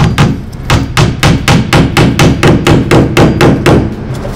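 Rapid, even hammer strikes drive a nail into vinyl siding, about fifteen loud, close blows in a steady rhythm with no talking.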